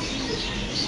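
Pigeons cooing at a pigeon farm, a steady, dense layer of soft coos and faint chirps held close and level through the whole short stretch.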